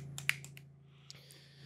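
A few sharp finger snaps in a quick cluster, then one more isolated snap a moment later, close and crisp over a quiet low hum.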